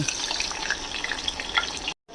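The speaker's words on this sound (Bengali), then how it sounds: "এটাকে এবার একটুখানি হালকা করে ভাজা করে নেব" Chopped onions, grated ginger, green chillies and bay leaves lightly frying in a pot for a one-pot chicken pulao, a steady close crackling sizzle throughout that cuts off abruptly near the end.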